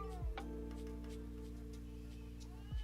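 A young kitten gives two short meows, one at the start and one near the end, over a steady low hum, with a soft indoor background between the calls.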